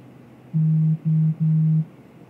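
A mobile phone goes off during a lecture with three short, steady electronic beeps at one pitch over a quiet room.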